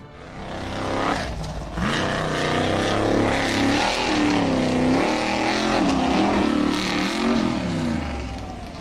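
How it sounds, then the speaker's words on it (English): An orange and silver off-road buggy, number 29, revs hard while charging up a steep sandy hill climb, its engine note rising and wavering continuously and loudly for several seconds before easing off. "The orange and silver buggy number 29 charged up the steep, sandy slope but lost momentum."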